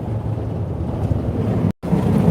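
Wind buffeting a microphone on a drive beside the Colorado River, a continuous low roaring rumble close up, cut by a brief dropout near the end.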